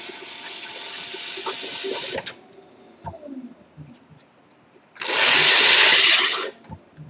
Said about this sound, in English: you can tell that was a metal bat and a metal rib